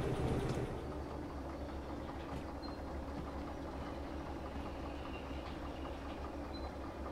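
A train in the Derail Valley railway simulator game brakes to a stop, with a steady low rumble and faint high squeals over a continuous mechanical drone, no voices.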